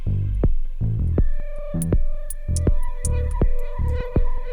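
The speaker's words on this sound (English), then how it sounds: "It defaults to a fairly fast vibrato." Airwindows Vibrato plugin at its default fast setting warbles a spacey synth clip, repeated pulsing tones wavering quickly in pitch, loud and alone.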